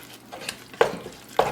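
Spices being stirred into prawn pulao masala with cumin powder, garam masala and salt in a pan, giving a low steady sizzle broken by two sharper scraping stirs.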